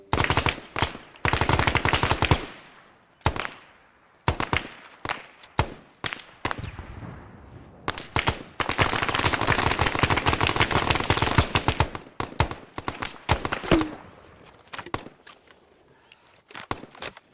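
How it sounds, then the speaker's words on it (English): Gunfire in ARMA 3's Vietnam setting comes as repeated automatic bursts and single shots, loud and close, separated by short pauses, with one long sustained stretch of fire in the middle and no voices. "I'm gonna start shooting at him."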